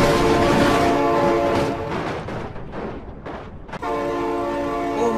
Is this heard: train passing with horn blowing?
yes